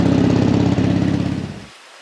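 A Harley-Davidson motorcycle engine runs loud and close near Gajin port in Gangwon-do, giving a steady throbbing rumble for under two seconds before it cuts off abruptly into silence.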